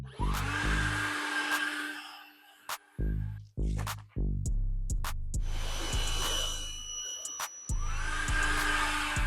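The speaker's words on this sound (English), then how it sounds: "All right, blower dry." A powerful air blower drying a freshly coated car with Phoenix EOD Kronos graphene ceramic coating roars in loud close bursts, cutting on and off several times with short pauses between blasts.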